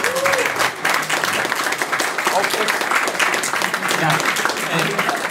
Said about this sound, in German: Ein Applaus für uns.